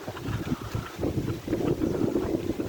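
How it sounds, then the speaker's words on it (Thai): Strong gusting wind sweeps across the grounds of a Thai Buddhist temple, Wat Krok Sadao, with a large Buddha statue and a pond nearby. It buffets the microphone as a steady low rumble that swells in gusts, with no voices. "โอ้ลมลมแรงลมแรงครับลมวูบวาบเลยครับ"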